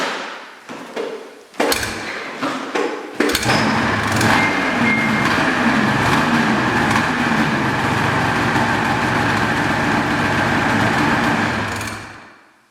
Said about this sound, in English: On this sled, it's carbureted. I'm gonna have to put the choke on. Then I'm ready to start.